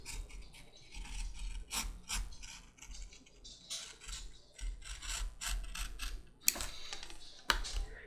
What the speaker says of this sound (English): I'll go ahead and just use a utility knife to trim off that excess lining around the edges.